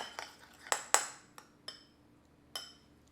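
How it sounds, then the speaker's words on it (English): A spoon clinks against a bowl while mixing a butter and seasoning mixture for air-fried corn on the cob, giving several sharp, separate taps and scrapes spaced irregularly, close and fairly quiet. "now I'm just going to take a spoon, and we're just going to mix this all together"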